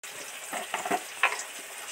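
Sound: onions frying in a pan

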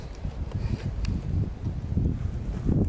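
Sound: strong wind outdoors

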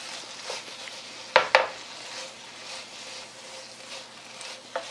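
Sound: stir-frying spicy dried squid in a pan

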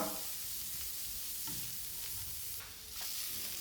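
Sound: sautéing chopped onion and green chili in a pan

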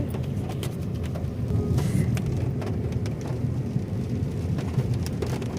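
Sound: light morning drizzle

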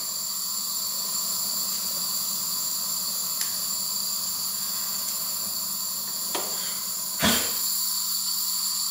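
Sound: refrigerant gas from Liebherr freezer pipe burning with hissing flame

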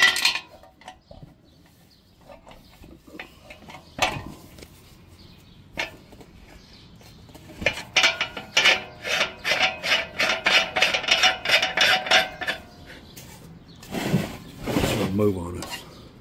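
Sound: screwdrivers prying rubber ring off German keg spear

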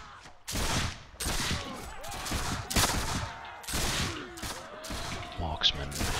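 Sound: musket volley fire in Mount & Blade video game

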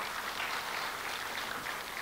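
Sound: applause

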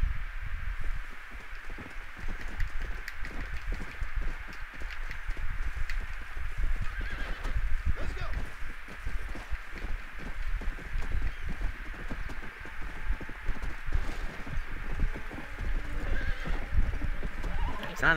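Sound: horse neighing in a video game

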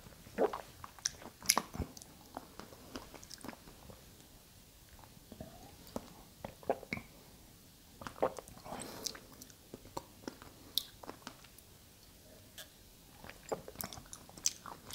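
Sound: tasting Oishi green tea drink with coconut jelly pieces

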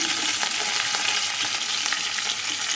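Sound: tempering spices frying in oil

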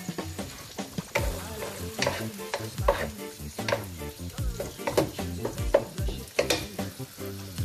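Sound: sautéing monggo with seasoning in a pan

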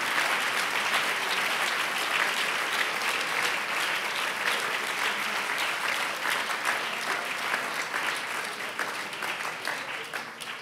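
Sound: congregation clapping hands in church

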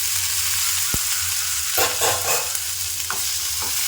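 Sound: stirring cooked plantain with mushroom in a pan

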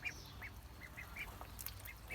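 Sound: ducks quacking

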